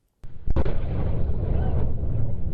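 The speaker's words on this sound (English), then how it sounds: "Blue Origin's massive New Glenn rocket exploding into a fireball on the launch pad Thursday night" Blue Origin New Glenn rocket exploding on the launch pad at Cape Canaveral during a night engine test: a sharp onset blast followed by a second burst, then a sustained loud roaring rumble with no talk.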